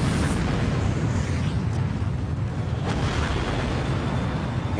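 Heavy, continuous low rumble and shaking roar inside a space shuttle during launch, solid rocket boosters pounding the vehicle, dense and unbroken at high level throughout.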